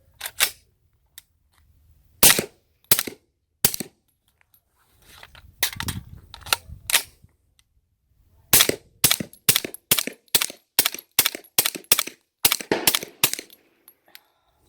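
Gunshots crack from an Extar EP45 pistol, single sharp reports spaced irregularly, then a rapid string of closely spaced shots, loud and near, with faint handling noise between.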